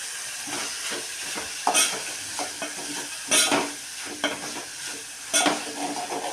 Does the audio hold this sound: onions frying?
yes